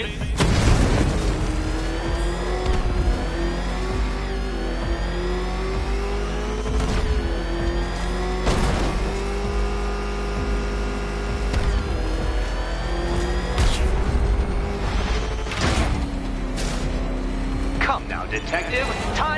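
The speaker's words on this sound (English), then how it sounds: "Can that ramshackle motor handle this?" Ramshackle car motor revving in Batman Arkham Knight on a linear course, a loud steady engine drone with rising and falling pitch sweeps, rumbling under game music and effects, with a voice talking over it.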